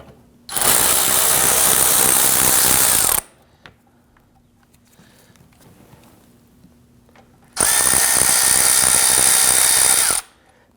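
A power tool buzzes loudly in two long bursts of about three seconds each, removing T30 Torx screws from a 2009-2017 Volvo XC60 splash shield, separated by a quiet pause with faint handling noises.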